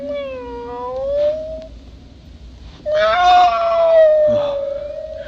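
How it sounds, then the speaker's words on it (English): A cat meows loudly in a dark film scene: two long, drawn-out wailing meows, the second rising and sustained, with a brief quiet gap between them and no talking. "a cat."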